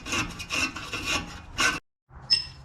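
Hand sawing or rasping a relief cut into a traction rod bushing on a Lexus GS400, several close scraping strokes in a steady rhythm, then a short pause before a final burst of cutting.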